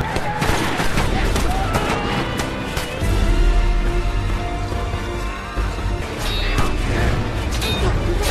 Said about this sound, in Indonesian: musuh melepaskan tembakan meriam dan senapannya